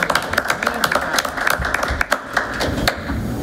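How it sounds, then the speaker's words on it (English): Scattered applause from a small group at a school board of education meeting, individual claps distinct and uneven, moderately close, lasting a few seconds. "A round of applause for all of our people."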